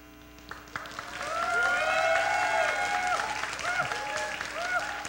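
A church youth congregation applauds, the clapping swelling after a second and holding steady, while a pastor's voice speaks clearly over it at close range.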